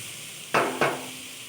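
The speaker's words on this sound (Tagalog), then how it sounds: "Ginisa ko muna siya guys ng bawang, sibuyas." Garlic and onion sautéing in a pan, two short bursts of sizzling as the pieces are stirred and tossed, close and moderately loud over a quiet background hiss.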